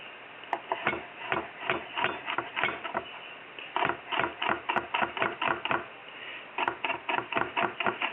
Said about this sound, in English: we're just going to cut up some green onions